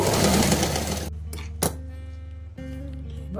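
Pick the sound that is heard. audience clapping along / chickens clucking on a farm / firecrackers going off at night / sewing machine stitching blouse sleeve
sewing machine stitching blouse sleeve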